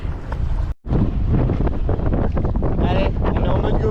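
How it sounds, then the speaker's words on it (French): Strong, continuous wind buffeting a GoPro microphone on a moving scooter on the island of Cozumel, a loud rumbling roar that fills the clip with one brief dropout, with faint speech mixed in. "Il y a du vent de ouf"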